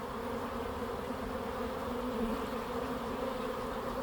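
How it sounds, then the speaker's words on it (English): A dense, steady buzzing of a bee swarm moving in fills the air, continuous and close, with no voices. "there's maybe 50 bees in the air and the majority of them have walked their way in"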